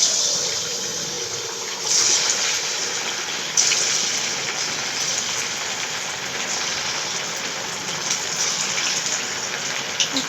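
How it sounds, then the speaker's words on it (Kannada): Poha vada made from flattened rice batter drops into hot oil and fries, a steady loud hiss and crackle that keeps going throughout with brief louder surges as more pieces go in. "ಹಾಗಾದರೆ ಬನ್ನಿ ಈಗ ಇದನ್ನು ಎಣ್ಣೆಗೆ ಬಿಟ್ಕೊಳ್ಳೋಣ. ಈಗ ಎಣ್ಣೆ ಬಿಸಿಯಾಗಿದೆ"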